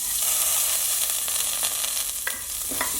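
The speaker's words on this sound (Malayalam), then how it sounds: "ഇതിലേക്ക് ഞാൻ ഈ എടുത്തു വെച്ച് ചെറുപയർ പരിപ്പ് ഇട്ട് കൊടുക്കുന്നു." Split moong dal roasts in a hot pan for sweet jaggery pongal, giving off a steady, close crackling sizzle with a few brief scraping stirs near the end.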